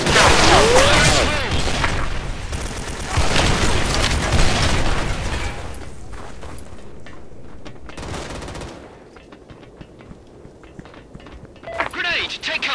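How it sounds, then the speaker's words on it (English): Loud gunfire and a booming grenade blast in the Special Force 2 shooter game, heavy bursts at the start fading to quieter scattered shots, with a shouted voice near the end. "Grenade! Take cover!"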